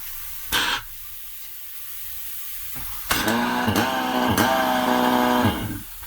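Elephant impact wrench running in forward and reverse at its speed settings, a brief burst of whirring near the start and then a longer, loud buzzing run with a few pulsing changes in pitch before it winds down.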